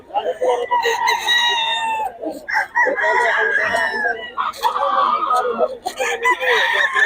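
Several Sweater Gilmore gamefowl roosters crow loudly and repeatedly in overlapping calls at a gamefowl farm in Bocaue, with clucking between the crows.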